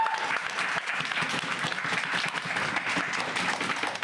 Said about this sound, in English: Can I have a big round of applause for our amazing candidate?